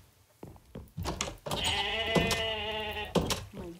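A goat from Minecraft with the Jurassicraft mod bleats in a drawn-out, wavering cry, close and loud, preceded by a few short clicks and followed by a shorter bleat near the end.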